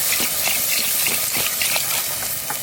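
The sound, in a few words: water poured into cooking pot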